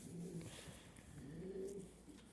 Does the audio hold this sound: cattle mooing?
no